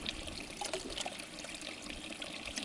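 Water poured from a small bottle into two other bottles outdoors, a steady close trickling and gurgling stream running throughout without talk.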